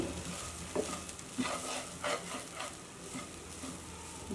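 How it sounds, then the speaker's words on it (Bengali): Low, continuous sizzling with soft periodic scraping strokes as rice is stirred and fried in a pan, quiet and close. No talking. "চালটা প্রায় ভাজা হয়ে গেছে আমি কিন্তু বেশ অনেকক্ষণ সময় নিয়ে এটাকে ভেজেছি"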